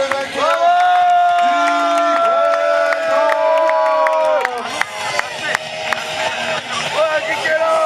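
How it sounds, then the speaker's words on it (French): Crowd at a CWF wrestling show in Ablain applauds and cheers the winner, steady loud clapping and shouts with a sustained tonal horn-like sound through the first half, then continuing noisy applause. "On peut applaudir le vainqueur."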